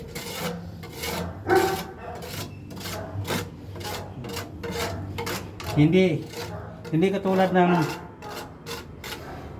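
Repeated rasping strokes of a hand saw cutting through plywood, steady back-and-forth rhythm, close by, with someone talking over it.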